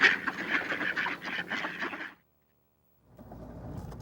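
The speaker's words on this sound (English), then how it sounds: "Don't see wood ducks get that close to you" Wood ducks close by, giving a dense run of overlapping quacks and calls for about two seconds, then a sudden silence before faint outdoor noise resumes on an icy lake.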